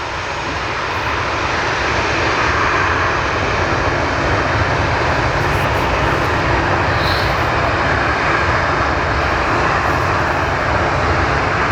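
Fixed-wing airplane flying near Portland airport in wacky weather: a steady, loud, broadband engine roar that holds constant throughout, with no talk.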